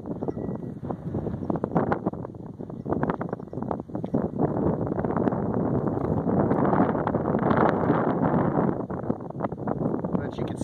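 Gusty wind buffets the microphone in an old cemetery near the Hayden Pass Fire, a loud, rough, continuous roar with rustling that swells and eases over about ten seconds.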